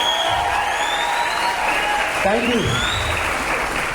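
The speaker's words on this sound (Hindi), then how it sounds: "ये लोग एक बार ताली मार के बताओ जरा" An audience seated in the upper tiers of a hall claps loudly and continuously, a dense wash of applause with a brief spoken thank-you over it.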